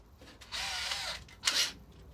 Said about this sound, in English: drill a pilot hole in the rosewood to clear the shank of the thing